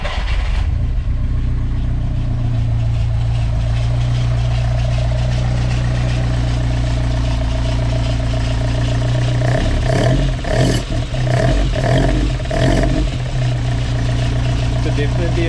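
VW MK2 Golf engine after a starter fix, idling with a deep steady drone, then a few quick revs near the end that rise and fall over the running engine.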